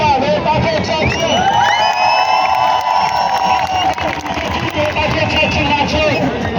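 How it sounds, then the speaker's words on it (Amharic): A large crowd cheers and applauds for a youth marching band: loud, continuous hubbub and shouting throughout, with sustained tonal notes ringing above the noise. "ጭብጨባ ለወጣቶቻችን"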